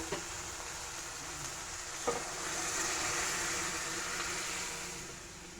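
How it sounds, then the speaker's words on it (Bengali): Dal stirred into fried masala for an egg tarka, a steady sizzle with a soft scrape of stirring and one brief knock, no talk. "ডালটা দিয়ে ভালোভাবে মশলার সাথে এটাকে মিশিয়ে নেব"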